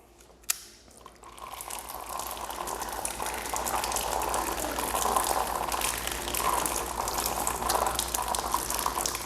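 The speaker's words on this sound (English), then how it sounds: "let me go ahead and put some water on it and see if that'll help me at all" Tap water runs steadily over hands stained blue from a car shampoo test, a continuous close splashing rush that builds after a brief knock at the start and stays loud to the end.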